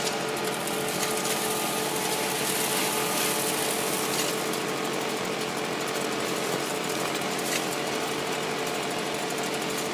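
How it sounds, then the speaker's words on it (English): A gold-prospecting dry washer runs continuously while classified material is fed through it, giving a loud, steady mechanical rattle and whir with a gritty ratcheting texture and no talk over it. "Here we are running the classified material through our dry washer"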